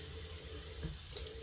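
Water running steadily from a tap into a sink, a soft continuous flow heard alone at low level with a couple of faint splashes.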